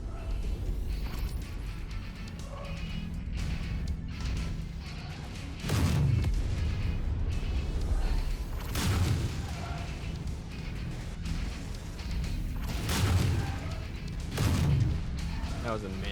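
Incoming missile explosions in the MechWarrior 5 video game, several heavy booms landing a few seconds apart over a constant rumbling mech battle, with voices talking through it.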